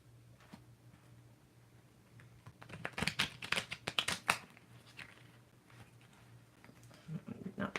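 Tarot cards are shuffled on a bed, starting faint, then swelling into a cluster of close, rapid papery riffles and taps before easing back into softer rustling.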